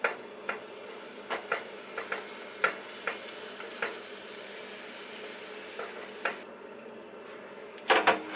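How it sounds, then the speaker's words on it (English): Butter sizzles in an already heated frying pan, a steady close frying hiss with scattered pops and crackles, ending in a few clattering knocks. "Taking about this much butter, I'm just going to put that right into the pan."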